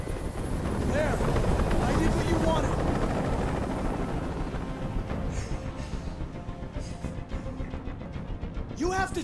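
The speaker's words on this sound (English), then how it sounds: "Tell that helicopter to get out of here!" A hovering helicopter from the video game Detroit: Become Human fills the scene with a loud, continuous rotor roar that stays steady throughout, while voices shout over it.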